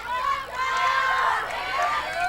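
Supporters from both sides of a girls' lacrosse game grow loud at Barrelson Field, a dense, steady roar of cheering and shouting voices filling the space.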